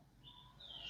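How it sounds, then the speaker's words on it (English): Faint bird chirps carry from the background, a couple of brief high tweets over quiet room tone. "So I hear the beautiful bird in the background."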